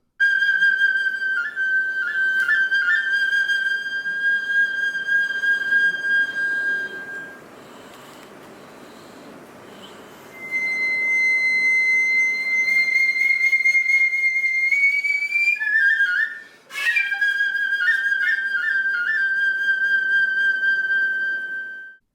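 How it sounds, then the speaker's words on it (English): Nokan, a Japanese transverse flute of the kind used in kabuki theater, plays alone: high, piercing yet soft sustained notes with ornamented slides and breaks, three phrases separated by short pauses, close and clear. "Here's a nokan flute in isolation."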